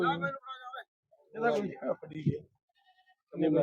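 A goat bleats in short, wavering cries at a goat market, mixed with people talking nearby.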